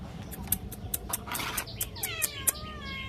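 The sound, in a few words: cat meowing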